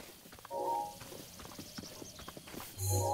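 Hooves of a piebald horse clip-clop in a steady, quiet walking rhythm in Zelda Breath of the Wild, with brief bright game chimes above them and no talk.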